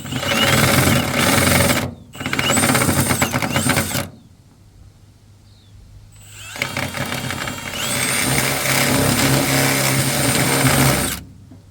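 A power drill whines loudly in two short bursts into metal on a Mitsubishi Magna street stock car, pauses briefly, then runs again in a longer, steady grinding stretch close by.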